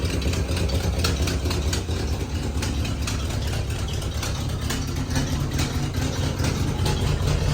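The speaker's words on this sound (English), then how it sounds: "At least she's idling." A 1978 K30 truck engine idles steadily up close, a loud continuous low rumble with a faint rhythmic knock and no change in speed.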